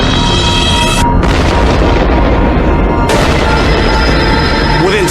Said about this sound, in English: Within seconds, the 104 kiloton nuclear bomb detonates.